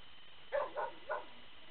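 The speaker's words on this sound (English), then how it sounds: "got a rescue puppy over there barking" A rescue puppy gives three short, close barks in quick succession, with a brief whimpering tail after the last one, against quiet background hiss.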